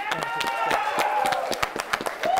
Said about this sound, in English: So just a round of applause for Team Trainwreck